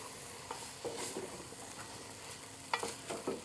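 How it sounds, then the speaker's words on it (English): Food being stirred around in a pan as it cooks and turns gooey, with soft scraping strokes and a faint sizzle, a few sharper utensil knocks toward the end. "so we're going to stir that around a little bit"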